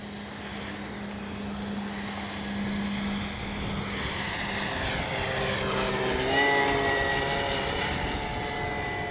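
A CNHL Super Tucano RC model plane makes a pass, its propeller whine rising and shifting in pitch as it flies by, heard outdoors over a steady background drone.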